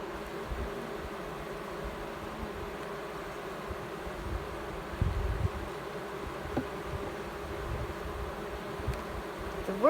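Honeybees buzzing in an opened hive that is storing nectar, a steady mid-level drone of many wings close up with occasional louder passes, no voices.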